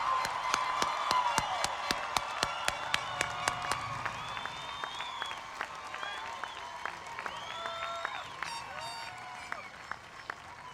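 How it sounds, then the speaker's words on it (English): A large graduation crowd at the Beverly Hills High School class of 2017 commencement gives sustained applause, with dense clapping, sharp claps standing out near the mic, and scattered cheers and whistles through the whole stretch. "let's have one more huge round of applause for the Beverly Hills High School, class of 2017"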